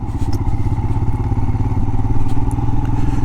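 A motorcycle engine rumbles steadily up close while riding through DeSoto National Wildlife Refuge in Iowa, a low throbbing drone with light clatter on top and no voices.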